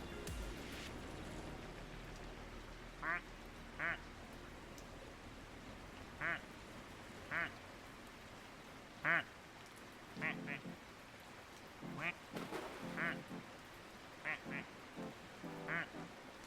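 A voice imitates duck quacks: about a dozen short nasal bursts, spaced irregularly and sometimes in quick pairs, over a steady low background hiss.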